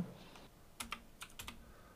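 Keystrokes on a computer keyboard during a virtual-machine BSD install, a few quick clustered taps close to the microphone with short pauses between bursts, fairly quiet and without talk.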